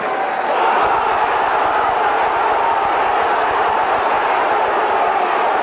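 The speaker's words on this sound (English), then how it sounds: "Well, I think the crowd are roaring." A rugby league crowd at a St Helens versus New Zealand match roars in a broad, continuous wall of noise that holds loud and steady without a break.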